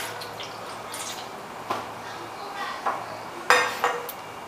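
A big pot handled in a kitchen while water is put inside, giving light clinks and knocks with a few sharper metallic strikes near the end, plus soft dripping, at moderate distance.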